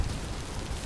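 Steady rainfall in the survival game Vintage Story, a dense even hiss with low rumbling underneath, constant throughout with no voices.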